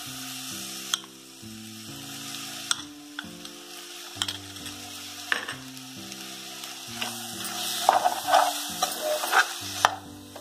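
Ground masala paste frying in hot oil in a pan for a mutton sukka, giving a steady close sizzle with occasional scrapes and stirring, and melodic music playing underneath.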